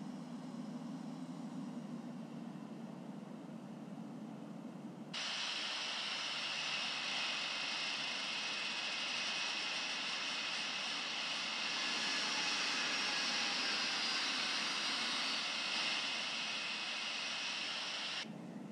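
Boeing 777F jet engines spool up on a takeoff roll in the Infinite Flight simulator. A quiet low rumble jumps to a loud, sustained whine and roar that holds steady to the end, with no talking.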